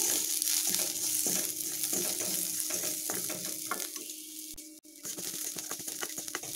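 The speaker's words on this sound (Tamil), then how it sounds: "பெரிய வெங்காயத்தில் ஒரு பாதி வெங்காயம் மட்டும் சேர்த்துக்கலாங்க இது எல்லாத்தையும் நல்லா வறுத்துக்கலாம்" Onion and spices fry in a pan for chicken parotta salna, a continuous close sizzle with intermittent stirring scrapes and clinks, no voices.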